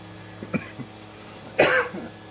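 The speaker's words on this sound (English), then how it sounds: "I have a slight cough." A couple of short coughs, close by, followed by a louder, harsher cough a moment later, with quiet pauses in between.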